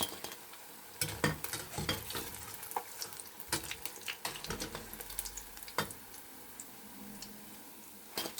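Fish pieces deep-frying in hot oil, a quiet bubbling sizzle broken by frequent clicking spatula or utensil taps and scrapes, close and alone.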